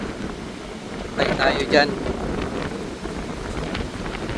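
Steady broadband wind rumble buffeting the microphone throughout on a beach walk on Boracay island, Philippines, with a short spoken phrase partway through.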